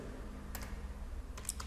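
Someone types PHP code on a computer keyboard, with two short, quiet bursts of clicking keystrokes over a low steady hum.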